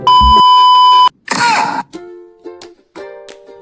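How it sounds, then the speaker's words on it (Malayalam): A lie detector machine gives a loud, steady electronic beep lasting about a second, followed by a harsher buzzing tone and several shorter beeps, all close and sounding alone. "ആര് നുണ പറഞ്ഞാലും ബീപ് സൗണ്ട് വരും"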